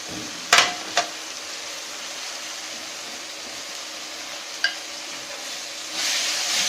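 An onion and tomato masala with chili and coriander powder is sautéed in a pan for potato kurma: a quiet, continuous sizzle broken by a few sharp stirring clanks, growing slightly louder at the end.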